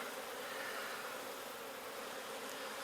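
Honey bees buzzing in an opened hive, a steady soft hum of many insects in the background, faint and continuous with no other sounds standing out.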